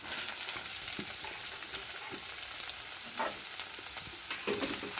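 Fresh ginger, green chili and onion frying in hot oil for Gobi Manchurian, a steady close sizzle with scattered stirring clicks and scrapes throughout, no voices.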